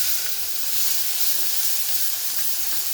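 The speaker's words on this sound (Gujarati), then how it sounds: "એટલે લસણ હવે કાંદા એડ કરીશું।" Onions sizzle and fry in hot oil with garlic in a pan over a medium flame, a steady close hiss with faint crackles throughout and no voices.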